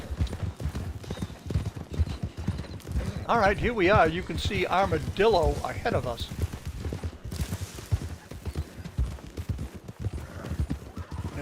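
Horses gallop in a horse race in a video game, a rapid, rhythmic clatter of hooves that runs throughout under someone talking, with a brief whinny.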